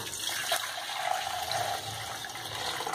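Warm, nearly hot water gushes steadily into a container with neutral detergent for cleaning a bathroom, a continuous close splashing fill with no voices.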